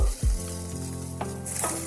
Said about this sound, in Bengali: বেগুন ভালোভাবে 2 পিঠ ভেজে নিতে হবে।